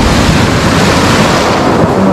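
Sea waves surge onto the shore at Lazarevskoye near Sochi on the Black Sea in September, a loud, dense roar of churning surf with heavy wind buffeting close to the microphone.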